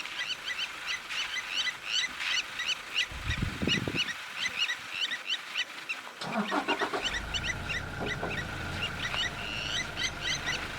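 Birds, likely geese or fowl, honk and call repeatedly while defending their nest from a buffalo, an agitated series of close, loud cries, with a few low thumps and scuffling sounds partway through.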